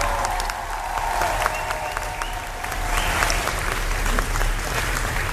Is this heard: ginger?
no